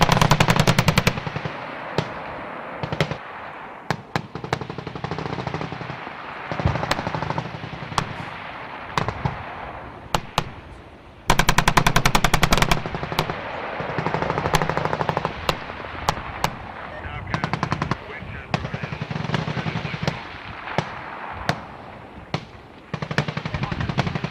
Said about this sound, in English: Those are the 60mm mortars, those explosions that you're seeing back there.